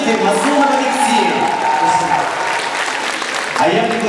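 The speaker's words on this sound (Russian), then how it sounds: "Ваши аплодисменты, Мазумов Алексей!" A university singing contest crowd gives a contestant loud, sustained applause with some cheering, and a voice can be heard over the clapping throughout.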